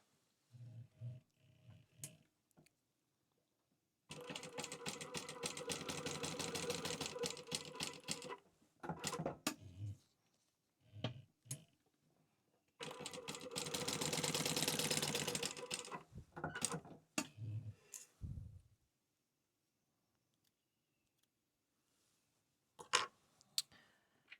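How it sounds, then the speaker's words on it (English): Sewing machine stitching clear TPU for a wristlet, running in two sustained bursts of several seconds each, with short stops, starts and handling clicks in between, fairly close and alone. "I'll just sew that real quick."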